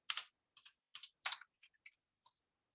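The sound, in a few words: typing on a computer keyboard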